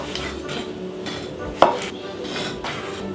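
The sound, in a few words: knife cutting the top off tomatoes on a board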